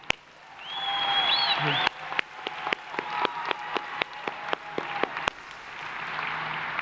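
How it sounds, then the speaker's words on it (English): Scattered claps from a small group at a university commencement ring out, sharp individual hand claps repeating over a few seconds, with a faint voice near the start. "give me a round of applause"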